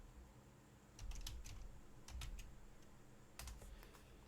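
Quiet clicks of a password being typed on a computer keyboard, coming in three short bursts of rapid keystrokes with pauses between them over a low background hum.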